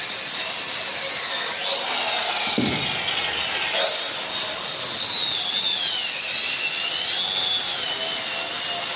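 A power cutting machine saws through brick with a steady high whine that rises and dips as the blade bites, loud and close and alone.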